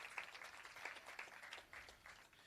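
Audience applause at a Jamaican national youth dialogue event, a steady wash of many hands clapping at moderate distance for several seconds without pause.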